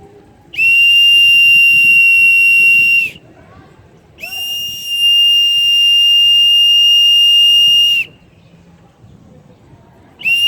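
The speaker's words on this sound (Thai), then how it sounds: "ไม่ผิวปากก็เป่านกหวีดนะครับ" A pigeon keeper blows a loud, shrill whistle to signal his pigeons: two long sustained blasts separated by a short pause, then the start of a third, with faint outdoor background between them.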